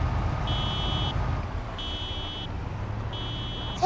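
In the video game Project Zomboid, a parked car's theft alarm sounds three evenly spaced, fairly faint electronic beeps over low background noise, with no talking.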